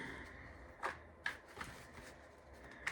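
Tarot cards being shuffled by hand during a reading, a few soft riffling bursts spaced across a quiet room with faint background hiss and no talk.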